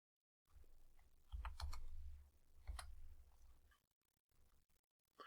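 Someone types a value into Inventor CAD software on a computer keyboard. A handful of faint, soft key clicks come in two short bursts, with quiet pauses between.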